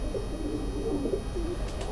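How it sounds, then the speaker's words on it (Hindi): A Teddy breed pigeon coos on a rooftop, a soft continuous low burbling call that stays close and steady throughout, with no talk over it. "ये टैडी ब्रीड का ये कबूतर, इसमें वाइटनेस ज़्यादा है"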